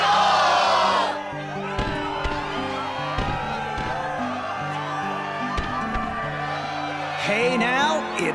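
A crowd cheers and whoops in the video game Kingdom Hearts II, a sustained roar of voices beneath background music, with a loud burst at the start and another near the end.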